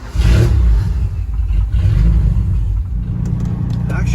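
A TVR 280i's engine rumbles and revs while driving through New York City at rush hour, loud and close throughout, with a voice speaking over it.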